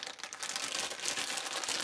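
Cards for the Dungeons & Dragons Wrath of Ashardalon board game are shuffled close up, giving a steady dense papery riffling and crinkling with no talk.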